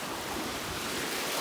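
Ocean surf at Myrtle Beach surges as a loud, continuous broadband wash, with wind buffeting the microphone and no voices heard.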